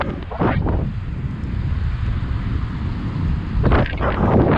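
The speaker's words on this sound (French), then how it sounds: "il y a un petit peu de vent aujourd'hui" Strong wind buffets the microphone on a quiet country lane beside a motorway during a bicycle trip, a loud continuous rumbling roar with gustier bursts near the start and end, no speech.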